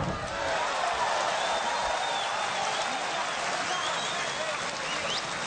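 Capacity crowd of about 10,000 at a kickboxing event in Milan, a broad steady roar of applause and murmur filling the hall, with scattered whistles rising over it.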